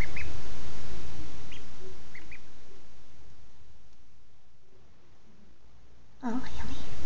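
Soft, scattered little quacks and peeps from two-to-three-day-old Cayuga ducklings over a low outdoor hiss, then a person starts talking near the end.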